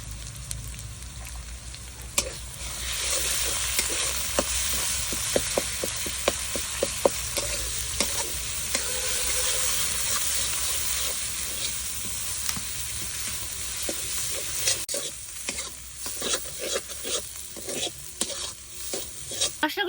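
Ground coriander, cumin, dried red chilli paste and turmeric fry in a pan for duck curry, giving a steady close sizzle broken by frequent scraping stirs of a spoon throughout.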